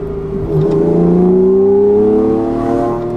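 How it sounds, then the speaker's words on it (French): Loud, close engine intake roar of a sports car rising in pitch as it accelerates, a steady climbing drone that eases off at the end. "Le bruit d'admission derrière est fantastique."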